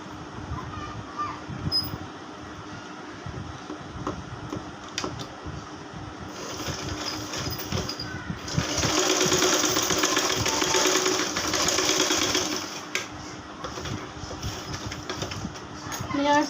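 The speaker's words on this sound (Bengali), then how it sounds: "এখন যে ফাঁকা জায়গাটায় ফাঁকা জায়গাটা আমি সেলাই করে দিব" A sewing machine stitching a gap in a frock for a ten-year-old girl, a steady mechanical whir that swells louder mid-way and then eases, with someone talking over it throughout.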